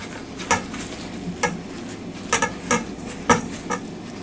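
A spoon scrapes and swishes through apple cobbler batter in a bowl as buttermilk is mixed in, with soft, rhythmic wet stirring strokes close by.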